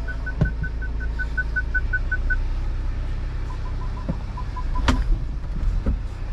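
A BMW with an N47 diesel engine and a newly replaced clutch idles in reverse gear with a low steady rumble. A series of short electronic beeps sounds over it, along with a few sharp clicks and knocks.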